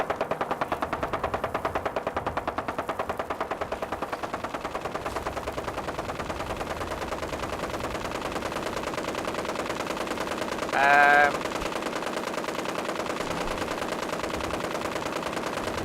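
Rapid, unbroken gunfire from a sound glitch in Fallout 4 hammers on for the whole stretch, steady and loud, with a brief tonal blip near the end.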